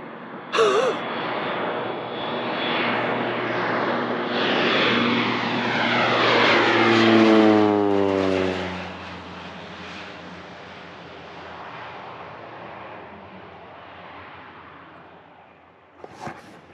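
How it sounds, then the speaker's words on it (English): A crop duster propeller airplane roars in low and close, its engine pitch sweeping downward as it passes overhead, then fades away into wind noise. "An aeroplane set off the radar"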